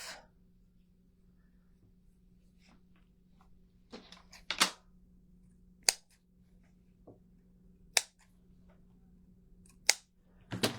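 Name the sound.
scissors cutting off tassel material for garland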